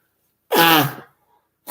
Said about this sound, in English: it's so wonderful hearing me blow my nose